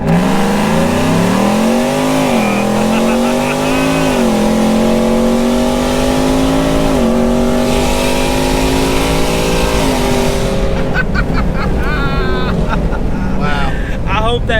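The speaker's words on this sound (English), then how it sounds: "This is 0 to triple digits with windows down" A Ford F-150 with a Corsa Extreme exhaust accelerates hard from a standstill to triple-digit speed with the windows down, its deep droning engine note climbing through repeated gear shifts, loud and continuous from inside the cab with wind rushing in.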